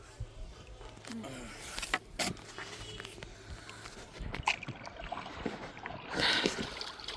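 A wooden boat being rowed across a wetland, with soft, irregular paddle splashes and water movement that stay quiet and close against a faint outdoor background.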